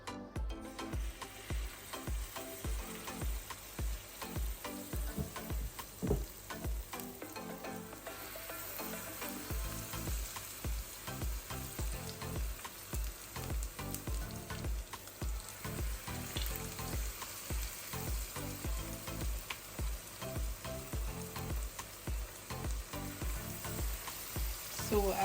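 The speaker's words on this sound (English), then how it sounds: "We have heated some oil in the frying pan. We can go ahead now and fry our fritters" Steady crackling sizzle of Jamaican saltfish fritter batter frying in hot oil in a frying pan over low flame, close and continuous, with occasional soft clinks and stirring noises, no voices.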